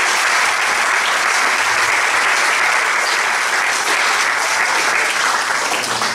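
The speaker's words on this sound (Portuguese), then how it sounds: "Palmas para o Daniel" A studio audience gives Daniel a round of applause on a live TV show, with loud, dense, continuous clapping from a crowd that stays at full strength the whole time.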